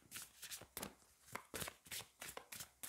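Cards from a tarot deck are handled and shuffled, a quick run of crisp, papery riffles and slaps in short bursts, close and quiet.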